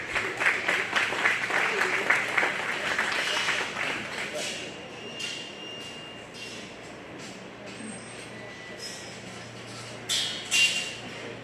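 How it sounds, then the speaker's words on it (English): Applause rises from the crowd at a county fair 4-H and FFA beef calf show, a moderate round of clapping that fades after about four seconds into quiet ring noise, with a few sharp sounds near the end. "if you want to give that young lady a round of applause, that'd be great"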